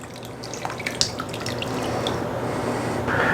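Sauce is poured over vegan cabbage rolls topped with sauerkraut in a home kitchen, a soft continuous liquid splatter and drip with a few small plops, close and fairly quiet, no talk.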